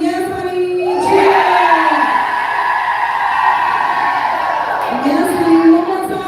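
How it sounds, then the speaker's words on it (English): A group of people cheers on cue at a live motivational event, a sustained burst of whoops and voices swelling for several seconds, loud and close, tapering then rising again briefly near the end. "Now give me a cheer."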